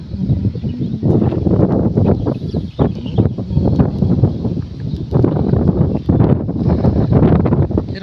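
Strong, gusty wind buffets a microphone outdoors in monsoon weather, producing a loud, continuous rumbling roar that surges and dips throughout, with no voices.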